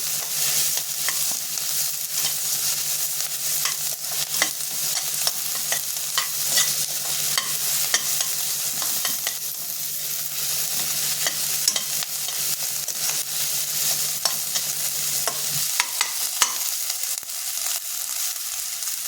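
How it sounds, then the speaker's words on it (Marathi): Onion with ginger and garlic frying in a pan for a pea and chickpea usal, a constant close sizzle under frequent light stirring clicks and scrapes, with no talking. "कांदा थोडासा फ्राय होऊ द्यायचा. अद्रक लसूण टाकून घेऊया."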